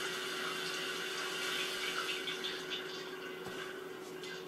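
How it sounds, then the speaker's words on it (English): Shower water runs steadily in a Beyond Two Souls game scene, a continuous broadband hiss of spray on a hard surface with a faint tonal hum beneath, alone and close. "A 5 second shower."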